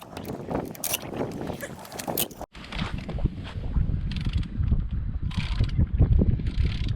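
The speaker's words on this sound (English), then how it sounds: "we're going to put these back on, the wheel nuts" Wheel nuts being fitted back onto a car wheel hub and tightened, with repeated metallic ratcheting clicks and clanks from a wrench close by, over steady outdoor wind noise.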